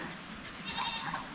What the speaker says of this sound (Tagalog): May mga kambing tayo dito na buntis na malapit ng mga anak.